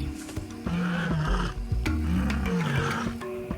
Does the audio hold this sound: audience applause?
no